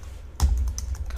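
Keys clack on a computer keyboard while code is typed: a short burst of several quick, close taps after a moment of quiet, over a low background hum.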